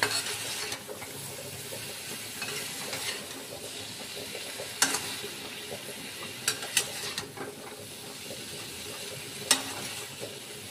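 Ground spices, Kashmiri chili and salt cook down in a pan, a quiet, steady frying hiss with occasional sharp clicks and scrapes of a spoon stirring.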